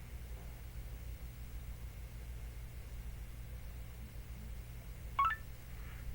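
A phone ringing in the Farming Simulator 25 video game, one short bright tonal chirp near the end, heard over a steady low engine hum and faint background noise.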